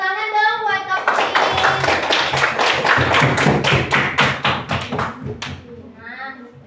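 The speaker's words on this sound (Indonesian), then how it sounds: "Tepuk tangan dong buat Kak Putri" Children in a fifth-grade classroom burst into applause for a student teacher, a dense run of claps after a spoken request, thinning into scattered final claps before talk resumes.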